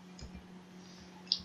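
A few soft, dry computer mouse clicks while a user builds an H5P arithmetic quiz, one sharper click standing out near the end over a low, steady electrical hum.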